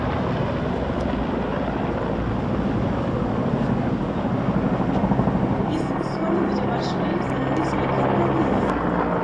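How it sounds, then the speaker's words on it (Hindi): One Chinook twin-rotor heavy-lift helicopter and two Mi-17 helicopters flying in wing formation over India's Republic Day Parade, a loud continuous rotor rumble with a voice commentating over it. "Consisting of one Chinook and two Mi-17 helicopters in wing formation."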